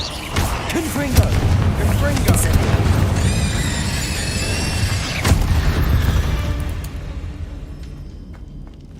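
Blasting-curse explosions in the Hogwarts Legacy video game boom repeatedly over a dense, loud mix of game effects and rumbling, with a sharp burst midway.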